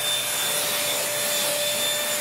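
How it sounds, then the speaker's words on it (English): A small, cheap bagless vacuum cleaner runs steadily with a loud, bright, airy whine and constant hiss, close by and unbroken, with no voices. "I like these bagless vacuums now."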